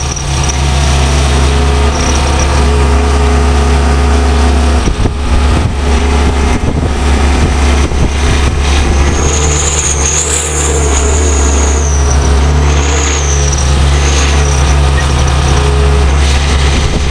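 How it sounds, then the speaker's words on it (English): A T-40 tractor's torque-rich engine runs steadily and loud while it plows through deep winter snow, a constant low rumble with slight shifts in load and no talk. "The T-40 shows up once again, eating through deep snow with ease thanks to its low center of gravity and torque-rich engine."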